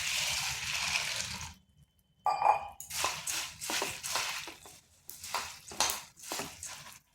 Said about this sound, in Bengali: এরপর মুড়িটাকে ধুয়ে নিচ্ছি।